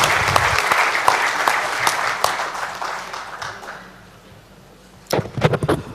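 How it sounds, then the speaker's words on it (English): A large audience at an international realtor introduction event gives a loud, full round of applause that thins and fades away, followed by a short burst of scattered clapping. "So guys, give them a bigger round of applause."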